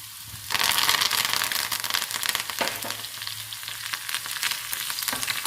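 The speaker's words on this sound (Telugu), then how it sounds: "కరివేపాకుని తుంచి వేయండి, స్మెల్ బాగా వస్తుంది." Curry leaves and crushed garlic hit hot tempering oil for a moringa leaf dal and burst into a loud, crackling sizzle with sharp spitting pops, settling into steady frying close by.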